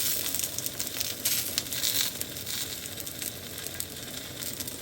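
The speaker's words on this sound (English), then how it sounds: "I did put some oil on the pan just to kind of fry it up a little bit." Garlic and seeds fry in oil in a pan with a soft, steady sizzle and faint crackling, close but quiet, with no voices.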